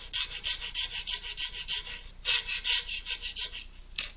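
A rasp shapes a cabriole leg made of 1/8-inch plywood in quick, rhythmic rough strokes, two bursts of about a dozen scrapes each, close and clear with no talking.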